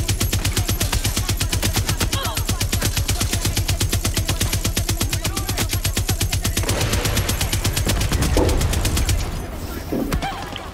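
A mounted machine gun in Far Cry 6 pounds out a long, rapid, evenly spaced stream of shots that ends near the final seconds and gives way to quieter background sound.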